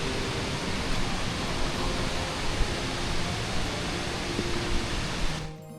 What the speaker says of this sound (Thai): พอเข้ามาก็เห็นน้ำตกเลย